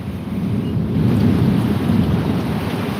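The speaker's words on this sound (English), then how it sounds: "we got rain blowing in on us now" Steady nighttime rain with thunder in Alabama, a dense, constant wash of falling water and a low rumble that holds at an even, fairly loud level throughout, with no voices.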